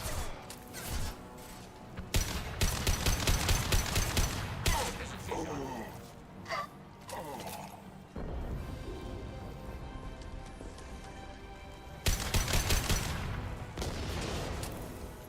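Bursts of gunfire from a Mass Effect 2 firefight, broken volleys of sharp shots with loud clusters near the start and again toward the end, mixed with music and game voices.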